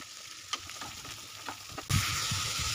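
Chopped vegetables dropped into a hot pan for poha polao, after a few light clicks and stirs a sudden loud burst of sizzling that continues steadily, close by with no talking.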